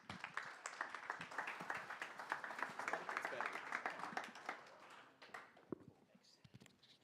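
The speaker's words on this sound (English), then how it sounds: "Let's give him a round of applause." Audience applause at an AI Collective launch party in San Francisco, a crowd clapping steadily for several seconds before tapering into scattered claps, fairly faint and roomy.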